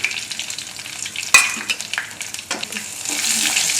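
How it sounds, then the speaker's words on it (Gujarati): Dried red chillies, bay leaf, curry leaves, cinnamon, cloves and star anise sizzle in hot oil for a Gujarati white kadhi, a sharp crackling burst midway, then steady close frying hiss with stirring clatter and no talk. "જેમાં આપણે સૂકા લાલ મરચાં, તમાલપત્ર, મીઠો લીમડો, તજ લવિંગ અને બાદિયાનું ફૂલ નાખીશું"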